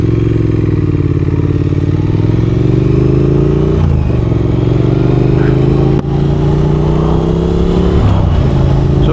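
A Triumph Thruxton R 1200 motorcycle engine drones loud and close, a steady throaty hum that rises and dips in pitch as the bike is ridden along a road, with wind rush over it.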